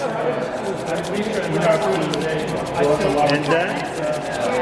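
Palms rub a little brandy between them at a Georgian winery tasting, making a continuous close, dry swishing friction sound, with a voice speaking faintly in the background.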